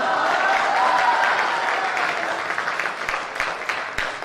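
Audience clapping at a poetry gathering held for a gurukul ashram's graduates' convention, a full burst of applause that gradually thins into scattered, separate claps toward the end.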